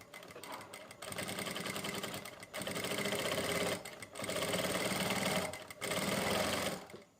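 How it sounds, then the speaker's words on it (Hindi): A sewing machine stitches a V collar neckline in four steady runs of rapid mechanical whirring, separated by short pauses as the fabric is turned. "यहाँ पर हम सिलाई लगाना स्टार्ट करेंगे इस तरीके से।"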